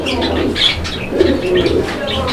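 Fancy pigeons at a pigeon sale cooing steadily at close range, with bursts of wing flapping and rustling scattered through, and no talk.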